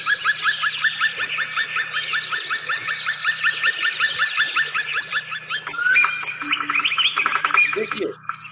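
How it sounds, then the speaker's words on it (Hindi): A small bird calls in a rapid, repeated series of high chirps, then switches to varied twittering notes, with a low hum in the background. "देखिए ये बहुत छोटी चिड़िया है, और इसका आवाज देखिए कितना प्रकार है।"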